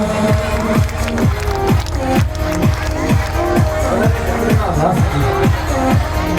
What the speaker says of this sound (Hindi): जोरदार तालियों से अभिनंदन करो बच्चों